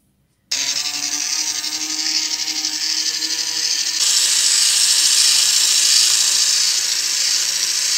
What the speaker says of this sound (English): So this is the oscillating motor.